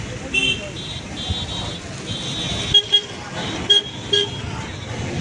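Crowded road on a rural nomination day, with many vehicles gathered and parked; short car horn toots sound repeatedly over a steady traffic rumble, fairly close, while voices chatter in the background.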